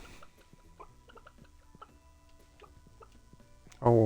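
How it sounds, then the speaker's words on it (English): Chickens in the video game Stardew Valley cluck in short, sparse calls among light ticking game sounds, fairly quiet, until a louder sound cuts in at the end. "Come on, chickens, come out"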